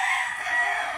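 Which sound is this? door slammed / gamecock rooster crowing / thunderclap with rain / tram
gamecock rooster crowing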